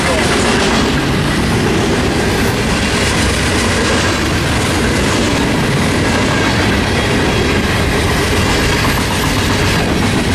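A loud train rolls past nearby at Monolith in Tehachapi, California, its wheels clattering steadily on the rails with a dense, continuous roar and some metallic squeal.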